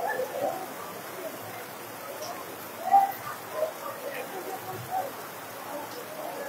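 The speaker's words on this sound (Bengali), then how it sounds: "বৃষ্টি নেমেছে" Steady heavy rain pours over an outdoor school football ground during an inter-school match, a continuous soft hiss with a few louder splashes and distant bird calls, a voice faintly present.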